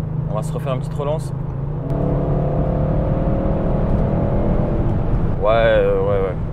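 An Audi RS6 C8 estate car pulls hard, its engine note rising steadily in pitch under a strong, close drone, with short bursts of speech at the start and the end.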